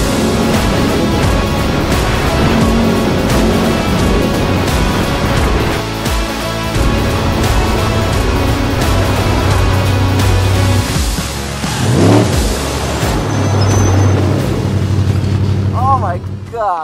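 Off-road race truck driven hard during a Vegas to Reno 2023 testing ride-along, its engine roaring loudly and continuously with booming revs, bursts and pops, and a voice faintly beneath.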